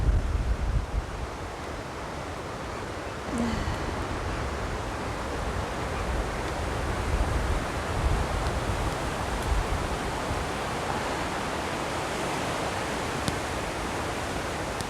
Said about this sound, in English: Plum trees are blowing in the wind